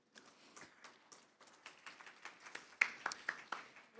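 A small conference audience in Seoul gives a thin, scattered round of applause after a presentation, with faint, separate claps that grow a little louder toward the end.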